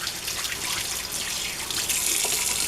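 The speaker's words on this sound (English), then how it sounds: "So now I'm going to turn the water on." Tap water runs steadily into a sink, a continuous broadband rush with a faint splashing trickle, fairly close and alone, while homemade liquid dish soap with vinegar is prepared for a wash test.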